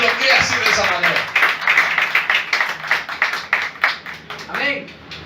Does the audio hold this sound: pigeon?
no